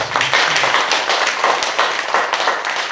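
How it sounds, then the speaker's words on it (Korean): Applause from an audience of fellow Buddhist practitioners at a dharma lecture on the Lotus Sutra, a steady, fairly close clatter of many hands clapping for about three seconds with no voices. "우리 도반들에게 큰 박수 드리겠습니다."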